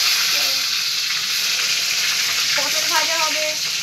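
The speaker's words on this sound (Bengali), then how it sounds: "মা এখানে ভাজছে সাবুর পাঁপড়" Sago papad frying in hot oil gives a steady, close hissing sizzle, with voices speaking briefly toward the end.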